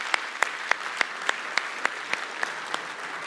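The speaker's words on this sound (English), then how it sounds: "A ripple of laughter through the room and a round of applause" A room full of conference attendees at an opening-day session breaks into a steady round of applause, dense and even, with individual sharp claps standing out at a regular pace throughout.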